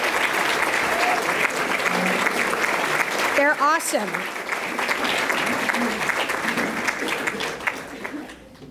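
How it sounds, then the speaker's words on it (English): A crowd applauds steadily at a state government event in Illinois, giving staff members a round of applause; dense clapping fills the whole stretch while a voice speaks briefly over it. "I'd like you, the crowd, to please give them a round of applause"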